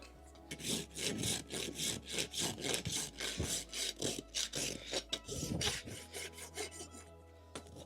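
Farrier's rasp working a horse's hoof before a bonded aluminium racing plate is fitted, rhythmic scraping strokes repeated about twice a second, close and loud, then stopping near the end with no talk.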